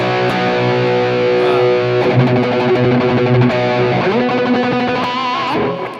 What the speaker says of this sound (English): This is the aux with the Andy Timmons pedal on it